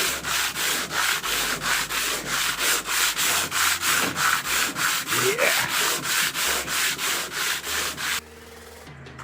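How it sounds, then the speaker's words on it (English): A wooden dinghy under renovation is hand-sanded in steady, rhythmic rasping strokes, about two per second, loud and close, stopping near the end, where a brief word is spoken. "Now it's back to sanding"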